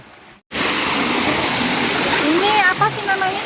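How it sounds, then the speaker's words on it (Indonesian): The Curug Jambe river stream rushes in a steady, loud, close roar of flowing water that cuts in abruptly after a short quiet start, with faint chirping birds layered over it. "sekarang kita sudah mulai memasuki aliran Sungai Curug Jambe."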